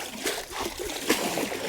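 A bucket of algaecide is tipped and spread across a swimming pool. It lands with brief splashes and splatters, then trickles into the water nearby.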